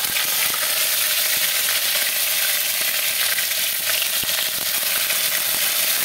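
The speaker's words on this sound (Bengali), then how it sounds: "আমি এখন একটুখানি আদা দেব" Ginger fries in hot oil after mustard in a Bengali kitchen, producing a dense, steady, loud sizzle throughout with faint occasional taps of a utensil.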